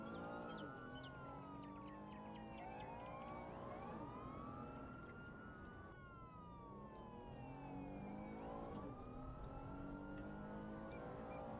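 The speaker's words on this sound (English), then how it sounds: "I hear all the sirens" Several wailing sirens in a video game rise and fall together, overlapping in slow sweeping cycles over a low rumble of traffic, with no talking.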